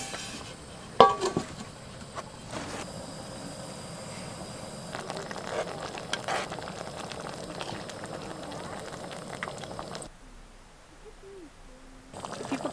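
Trout and pasta frying in a pan on a camp stove in Utah's high-country wilderness: a steady, close sizzling hiss with a faint knock near the start, cutting off abruptly near the end.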